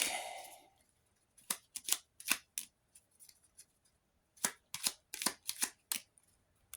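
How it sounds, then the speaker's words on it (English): Quick riffling bursts of a card deck being shuffled, two clusters of crisp, rapid flicks separated by a short pause, close and clear with no talking. "Gonna shuffle the manor deck."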